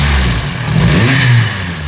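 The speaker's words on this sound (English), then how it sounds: "I'm going to give it a little rev here a minute." A 400bhp forged, turbocharged Honda Integra DC5 engine revs up briefly and loudly near at hand, hitting the limiter, its pitch rising then falling back toward idle.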